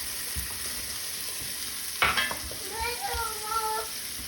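Chopped jalapeno drops into hot oil for tortilla soup, giving a steady hiss of sizzling with a brief louder splash as it goes in, while a voice is faintly heard in the background.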